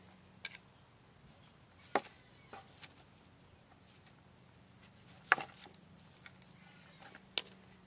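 A knife chops through a piece of beef tallow fat with a little meat on it in a few sharp, scattered cuts against a cutting board, quiet and close, with a faint hum underneath.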